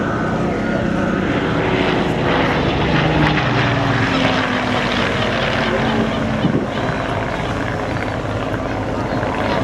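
Hawker Hurricane propeller fighter flying at an air show on the coast, its engine drone a loud continuous roar with a shifting pitch as it passes, while a commentator talks over it.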